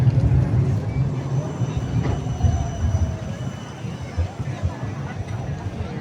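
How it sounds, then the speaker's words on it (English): A train rumbles past nearby beside a canal in Amsterdam, a steady low rolling clatter with a faint high squeal, gradually fading; a voice speaks briefly over it. "Ooh, train."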